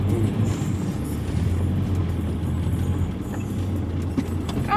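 A vehicle's wheels spin on a snowy winter road in Turkey, a steady low engine drone and rumble running throughout with no talk.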